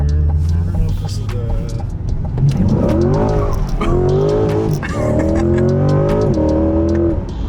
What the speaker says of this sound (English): I wonder if this car slides, Daniel.